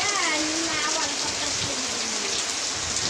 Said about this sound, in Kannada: ಬರ್ಬೇಕಾದ್ರೆ ಫುಲ್ ಮಳೆ ಬರ್ತಿದೆ